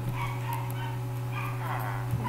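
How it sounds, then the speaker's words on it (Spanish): Several dogs bark and yip at a distance behind a steady electrical hum, short scattered barks rising now and then above a low background of muffled voices during a Minecraft EggWars match. "Perdón si oyen esa bulla de esos perros, que es que joden demasiado."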